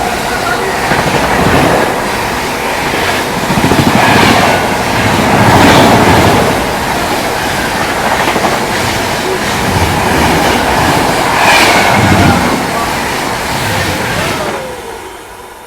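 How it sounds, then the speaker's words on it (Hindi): The 12310 New Delhi–Rajendra Nagar Terminal Patna Tejas Rajdhani Express overtakes at about 130 km/h. A loud, surging rush of wheels and wind carries a rhythmic clatter and swells and fades in waves before tapering off. "हम लोग को पड़ रहा है ओवरटेक, वो भी कैप्टन का 12310 नई दिल्ली राजेंद्र नगर टर्मिनल पटना तेजस राजधानी एक्सप्रेस"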